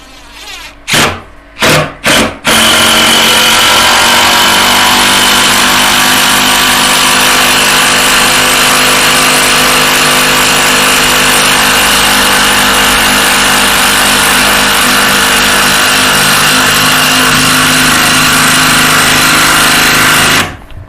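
A cordless battery power tool drives long screws into a roof beam at an old watermill, loud and close: a few short bursts, then one sustained high whine with a steady buzzing tone lasting about eighteen seconds before stopping.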